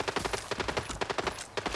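Rapid automatic gunfire crackles in a fast, even burst of repeated shots, with a brief gap before firing resumes, in the video game Arena Breakout.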